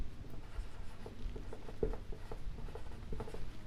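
Chalk or marker writing on a board during a class 10 maths lesson, a close run of soft scratchy strokes and taps with one sharper knock midway and no speech.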